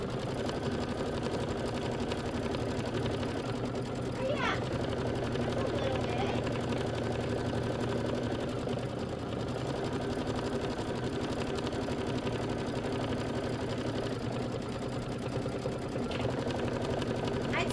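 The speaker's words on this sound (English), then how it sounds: "3 minutes of stitching, just let it go." Kimberbell embroidery sewing machine stitching a Hello Sunshine quilt block, a steady mechanical whir and hum that runs unbroken and fairly close throughout.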